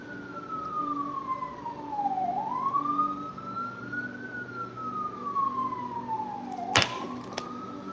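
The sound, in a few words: emergency vehicle sirens in New York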